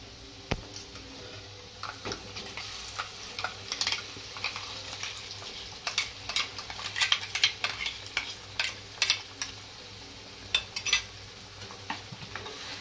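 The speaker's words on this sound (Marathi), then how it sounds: "आता हे मसाले चांगले तेलात परतून घेऊया" Dry spice masala sizzles gently in oil over a low flame while a spoon scrapes and taps against the pan in irregular bursts, the crackle quiet but close, with no talking.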